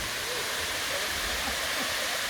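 Hanakapi'ai Falls waterfall on Kauai, a steady broadband roar of falling water that holds even and unbroken throughout, heard from a moderate distance with no voices over it.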